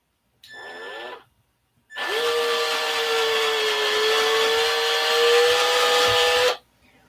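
A Porter Cable power drill drives a 3/4 inch bit into pickled steel, whining loudly with a steady pitched tone for about five seconds after a short initial burst, no voices.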